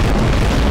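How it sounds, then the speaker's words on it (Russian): Powerful bomb explosions in the video game Garry's Mod, set off inside a human body, forming a dense, loud rumbling blast that fills the whole short moment. "Ой-ой-ой, это 6 взрывов мощных."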